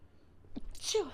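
A single sneeze from a podcast host during casual studio conversation, a short sharp burst, close and moderately loud, with a faint voiced tail after it.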